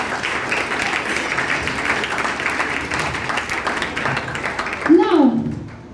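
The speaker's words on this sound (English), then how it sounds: "Give yourself a round of applause." An audience applauds at a talk on gambling addiction, a steady dense wash of many hands clapping together for about five seconds before it fades and a voice cuts in near the end.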